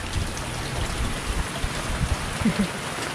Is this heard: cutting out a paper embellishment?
no